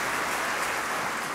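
A concert audience at a chorus event claps in a brief, dense, even burst of applause, heard from within the room with no voices over it.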